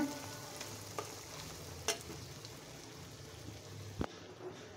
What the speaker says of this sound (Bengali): এখন আমি এটাকে আস্তে আস্তে ভাজতেই থাকবো যতক্ষণ না ভালো একটা ফ্লেভার আসে